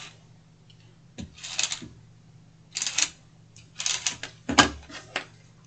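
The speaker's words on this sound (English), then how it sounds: "we are going to add tape to these pieces here" A tape runner is pulled across paper box pieces, giving a few short, separate sticky rasps and clicks with quiet gaps between them, close by and with no talk.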